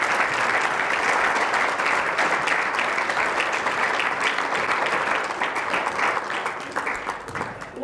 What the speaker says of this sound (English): Please give a huge round of applause to our